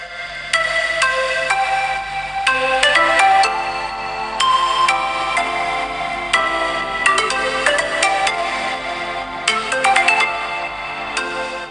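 A Vivo V19 smartphone ringtone plays through its single mono bottom speaker at full volume, a bright melodic tone pattern repeating steadily and loudly for the whole stretch, alone with no voices.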